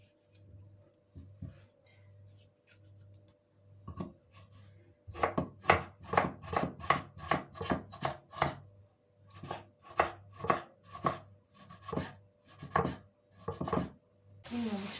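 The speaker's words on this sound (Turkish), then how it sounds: "Üç tane de domates doğrayacağım arkadaşlar." A knife chops tomatoes on a board in quick, evenly spaced strokes after a few scattered taps, with a low hum running underneath.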